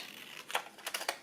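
Scissors cutting a paper journal card for a paper bag journal, a few quick close snips in an irregular rhythm, faint and crisp with no talking.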